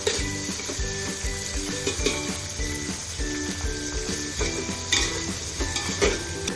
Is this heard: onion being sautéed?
yes